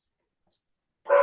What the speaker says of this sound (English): I want to apologize for the dog barking in the background.